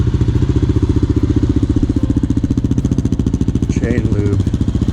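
Motorcycles idling nearby with a loud, rapid, even thumping beat, and a brief voice near the end.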